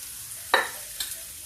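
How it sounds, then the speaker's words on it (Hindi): Chopped onions frying in a pan with asafoetida for spinach dal give a soft, steady sizzle, broken by two brief scrapes of stirring, with no voices. "इसको मैं धीरे धीरे प्याज को हल्का गुलाबी भूनूंगी"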